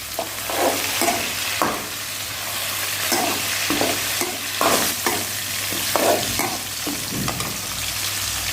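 Onion, cumin and mustard seeds frying in oil for a tempering, with a spoon scraping and stirring in regular strokes over a steady close sizzle; no talking.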